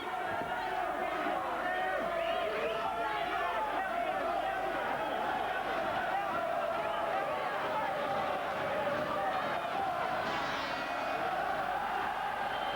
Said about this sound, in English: Listen to this Sheffield crowd try to lift Ryan Rhodes in the second half of this absorbing contest.